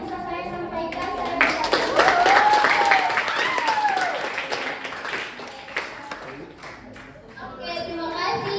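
Audience applause at a Social Awareness facilitation session, steady clapping from a crowd that swells and holds for several seconds, with voices talking over it and some children's chatter nearby.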